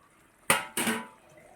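Fried eggplant and dried fish are stirred in a pan, giving two quick loud scrapes and clatters of a spatula against the pan, close by, followed by quiet.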